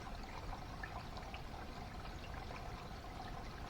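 Water with a little rinse aid in it runs unevenly through a 3D-printed sluice, a soft, steady trickling flow that is faint and continuous, with no voices.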